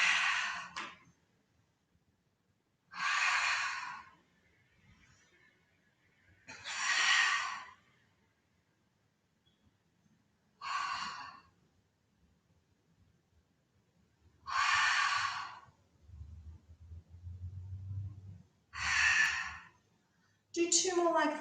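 Strong breathy exhales during a Pilates class, each rising effort marked by a loud close whoosh of air, repeated about six times at a slow irregular pace with quiet pauses between.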